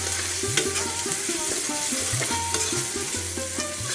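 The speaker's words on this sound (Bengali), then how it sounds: "পেঁয়াজ রসুন কুচি করা তো একটু হালকা করে ভেজে নিই" Chopped onion and garlic fry lightly in a pan after a few cumin seeds, a steady sizzle under a background of rhythmic tonal music-like sounds, with no voices.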